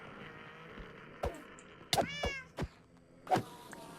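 A cat in the video game Minecraft meowing: several short, clear meows spaced across a few seconds, close and moderately loud with no talking over them.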